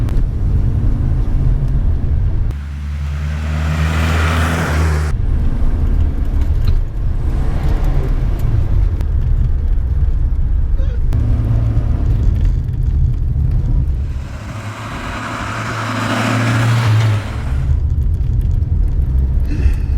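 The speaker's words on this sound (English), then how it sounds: "A little bit of rev matching there, a bit of heel and toe, lovely stuff." A classic Mini's engine rumbles loud and close, with two clear rev blips from heel-and-toe rev matching during downshifts, the engine note rising and falling between steady running.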